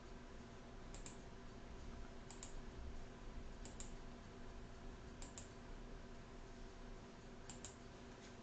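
Keyboard shortcuts are pressed on a computer keyboard while laying out a plan in laser design software. About five short, faint double-clicks of the keys come at a roughly regular spacing over a quiet, steady background hiss.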